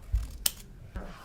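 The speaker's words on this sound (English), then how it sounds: "And then with just one snip from our scissors." A single sharp snip of scissors cutting through folded paper while making a five-pointed star, one brief crisp cut close by followed by a soft thud, with no talk.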